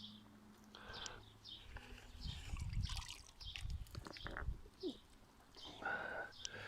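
Water trickles and drips softly from a potted garden plant as it is lifted out of a container of water. The sound is faint and close, with a few irregular splashes and dribbles.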